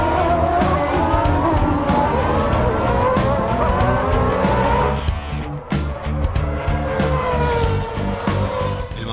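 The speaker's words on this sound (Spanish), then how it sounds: "el Williams se quedó patinando y Senna no perdió la ocasión" A Williams Formula 1 car spins its wheels at a race start amid a field of screaming engines, a dense, loud roar with rising revs and rapid gear changes, under a faint commentary voice.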